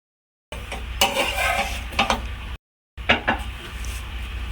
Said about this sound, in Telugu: ప్యాన్ మీద లో ఫ్లేమ్లో పెట్టుకొని కాల్చుకుందాం గోల్డెన్ బ్రౌన్ కలర్లో.